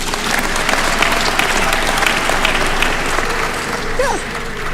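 Audience applause at the 39th graduation ceremony of the University of Eastern Africa, Baraton, in Kenya, a dense steady clapping from a large crowd that holds throughout, loud and close with faint scattered voices mixed in.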